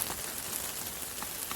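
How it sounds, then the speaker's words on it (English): Light rain beginning to fall on a back garden vegetable plot, a soft steady patter of drops across the full clip, faint and even with no voices. "the rain's just starting to come"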